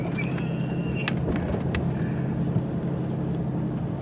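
Steady low engine rumble from a Ford Ranger rounding a corner, with wind buffeting and a few rattles and squeaks from the cab, close and continuous throughout.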